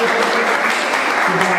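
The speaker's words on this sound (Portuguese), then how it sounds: "Palmas pra Fran." Audience applause for Fran, steady dense clapping from a crowd, close and even throughout the short stretch, with a faint voice briefly over it.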